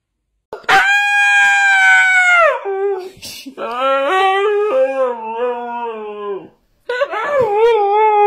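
Dog howling in long, loud, drawn-out tones close by, three separate howls that rise and sag and end in whimpering falls, with short silent gaps between them.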